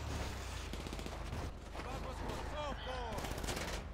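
Gunfire in GTA Online: rapid, dense bursts of shots crackle throughout, while voices talk over the middle and later parts.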